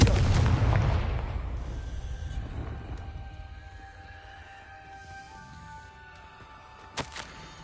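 In the video game Hogwarts Legacy, a Confringo fire-blast spell explodes with a heavy boom that rolls away into a long fading rumble, followed by a faint sharp pop near the end.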